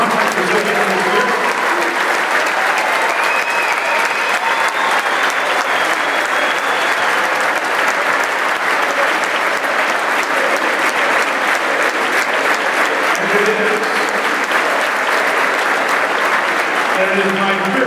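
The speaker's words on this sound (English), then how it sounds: "a nice round of applause for the conference recipient this year" An audience at a tournament championship ceremony breaks into loud, sustained applause, with dense clapping filling the hall and continuing steadily throughout.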